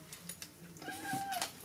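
A cat gives a single drawn-out meow that rises and falls, faint and close, with no other sound around it.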